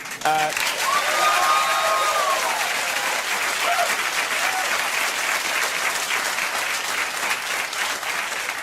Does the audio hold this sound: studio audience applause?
yes